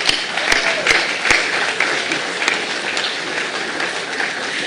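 An audience applauds a restoration team at a ceremony with a royal guest, giving a moderate, fairly steady patter of clapping with a few sharp, close claps standing out.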